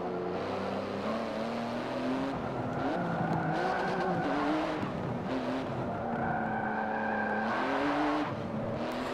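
A Porsche race car in Forza Motorsport 7 drives a lap, its engine droning loudly and continuously with rising and falling revs through gear changes, tire noise woven in.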